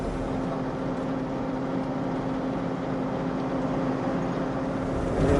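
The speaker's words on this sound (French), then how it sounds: "juste le bruit du moteur" Steady, droning engine hum from a vehicle driving through the desert between Béchar and Bordj Badji Mokhtar in Algeria. The low rumble is constant and moderately loud, with a faint tonal whine and no speech.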